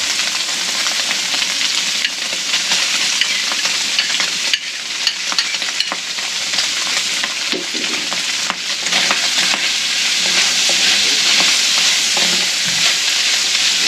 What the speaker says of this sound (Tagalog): Lagyan na natin yung sibuyas saka bawang.